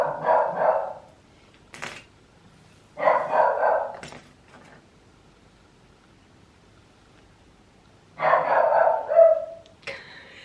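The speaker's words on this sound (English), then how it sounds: "barking at the window cleaner" A dog barks at a window cleaner, three bursts of loud, rough barking with quiet pauses between them, heard indoors with no one talking.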